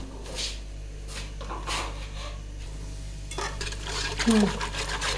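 Besan (gram flour) batter stirred in a bowl for kadhi, a soft scraping swirl repeating at an easy pace, with brief clinks of a utensil against the bowl near the end.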